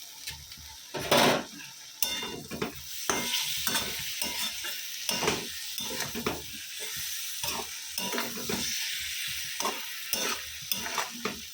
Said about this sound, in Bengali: বড়িটা ভেজে নিই।